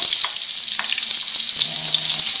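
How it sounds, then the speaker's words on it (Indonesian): Shallots and garlic sauté in hot oil for stir-fried rice vermicelli, giving a steady, close, bright sizzle with light stirring and utensil clinks throughout, no voices. "untuk menumis kita pakai bawang merah 3 siung, bawang putih 1 siung"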